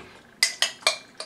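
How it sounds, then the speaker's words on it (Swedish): Cabbage pudding is spooned onto a plate, giving four quick metallic clinks of utensil on dishware in close succession, crisp and near, with no talk over them. "Nu är det bara att ösa på tallrik."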